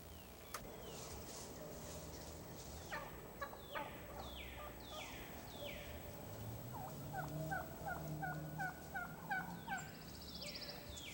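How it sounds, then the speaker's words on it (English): Wild turkeys in South Carolina gobbling repeatedly, with several rolling gobbles and descending calls from more than one bird at moderate distance, set against a steady outdoor background hiss and low rumble. "You notice now the birds become more vocal."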